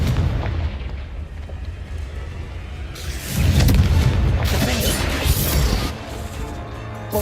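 Confringo spell blasts in Hogwarts Legacy boom in heavy bursts, with a loud sustained crashing explosion swelling midway and rumbling on before easing off, with no talk.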